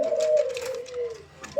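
A pair of Giribaz pigeons coo close by in one long, low, steady coo, then a short new coo starts at the very end, with faint rustling behind.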